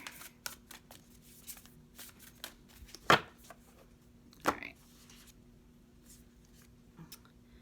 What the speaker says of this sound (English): I'm going to pull 3 cards from the Moon Oracle deck as well